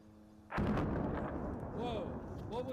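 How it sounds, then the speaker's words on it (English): An explosion during an attack on Iran, a sudden heavy boom that rolls on as a long, loud rumble, with a voice speaking faintly over the tail. "Breaking news, another explosion, everybody."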